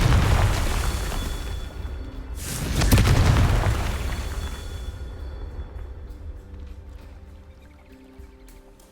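The Confringo fire spell explodes in Hogwarts Legacy, a loud deep boom with a second heavier blast about two seconds later, then a long rumbling decay fading toward silence.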